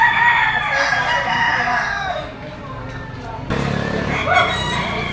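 Kearney Sweater yellow-legged gamefowl roosters at a farm in Lipa, Batangas, crowing and clucking nearby, with someone talking over the birds partway through.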